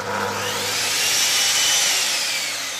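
A Metabo miter saw running up under soft start, giving a steady high-pitched whine with a faint gentle swell in level, heard alone without talk.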